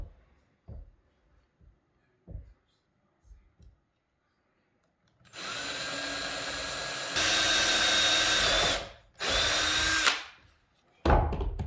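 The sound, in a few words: power drill with countersink bit drilling into desk table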